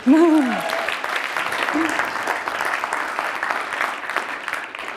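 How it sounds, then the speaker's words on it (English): Audience applause at a longevity investment summit and startup demo day, steady clapping filling the room for several seconds after a brief voice at the start. "They deserve a round of applause too."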